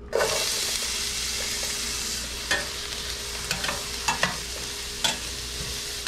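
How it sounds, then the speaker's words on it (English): Onions dropped into shimmering hot oil in a pan over medium heat sizzle with a steady broadband hiss, joined by a few sharp clicks and stirring knocks throughout, with no talking. "I'm going to drop in my onions."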